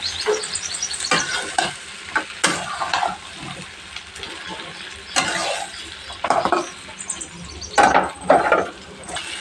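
Stuffed brinjals frying in oil in a pan, a close, steady sizzle broken by repeated scraping stirs and clinks of the spoon against the pan.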